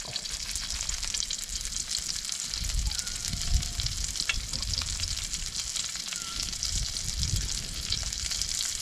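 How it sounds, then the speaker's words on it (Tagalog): Garlic, onion and pepper sauté in a pan for a tilapia tomato dish, a continuous crackling sizzle with a few soft stirring sounds, steady and close. "Yan po, ating ginigisa na."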